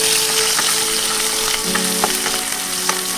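Onions frying in oil over a tempering of cumin, mustard seeds, dry red chilli and curry leaves, a loud, dense, continuous sizzle with faint stirring clicks and no talking.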